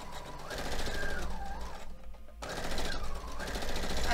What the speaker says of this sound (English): I'm sewing it a scant quarter inch